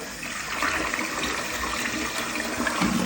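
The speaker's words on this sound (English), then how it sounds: "flush the toilet." A toilet flushing right after its tank refills following a replacement install, a steady rushing wash of water at close range that holds constant for about three seconds with no talking.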